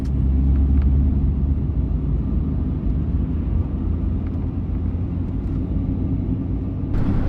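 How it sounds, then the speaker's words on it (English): A car driving in slow road traffic, a steady low engine and road rumble heard from inside, constant and fairly loud throughout without voices. "I'm stuck in freaking traffic"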